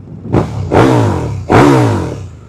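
A KTM 1290 Super Duke R motorcycle engine revs in three rising bursts, each swelling then holding a loud, rough mid-pitched roar close by, with no talk.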